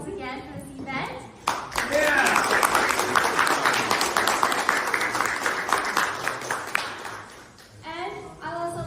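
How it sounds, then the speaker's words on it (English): A room of guests breaks into sustained applause at an evening leadership foundation gathering in a private home, the dense clapping swelling after brief speech and fading back under a voice near the end. "give her a big round of applause"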